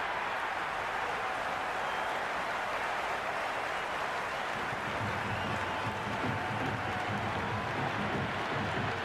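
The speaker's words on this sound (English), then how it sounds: "It's evident and ever so audible that the crowd is at near bursting point at today's play" Cricket stadium crowd in the Cricket 26 video game during an India vs South Africa ODI, a dense, steady roar of many voices that swells slightly louder in the second half.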